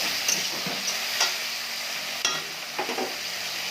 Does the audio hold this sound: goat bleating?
no